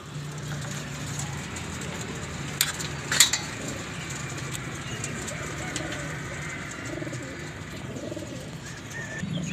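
Racing homing pigeons gathered before a release in Kudus, with soft low cooing murmuring steadily throughout amid outdoor ambience, plus a couple of brief sharp knocks midway.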